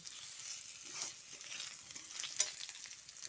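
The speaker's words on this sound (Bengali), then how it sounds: "আলু ও ডাঁটার গায়ে রং ধরে আসা পর্যন্ত ভেজে নিতে হবে।" Potatoes and drumstick pieces fry in a pan with a soft, continuous sizzle and occasional stirring scrapes, close but quiet, with no voices.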